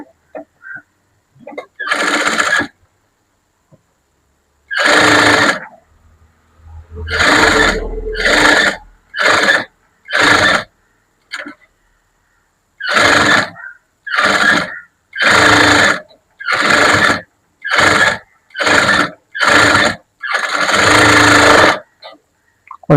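A sewing machine stitches a blouse in short, loud bursts of whirring, separated by brief silent pauses, close and with no talk.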